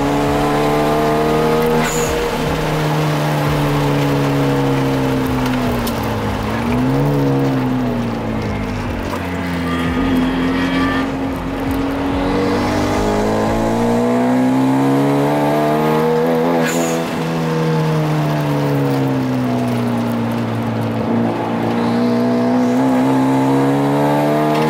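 A Genesis car races on a track day, its engine loud and close, with revs climbing and dropping through gear changes, and tire noise while it overtakes.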